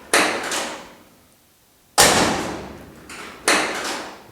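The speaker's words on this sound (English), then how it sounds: "Let's go ahead and shut the door and see how it works." A car door fitted with a new OER door latch is swung shut three times, each a loud, sharp slam with a quick decaying rattle, spaced about two and one and a half seconds apart, with no talking.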